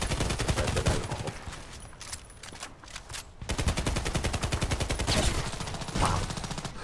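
Rapid automatic fire from an SA58 rifle in the online shooter Contract Wars, dense evenly spaced shots in long bursts with a short break in the middle, loud and close.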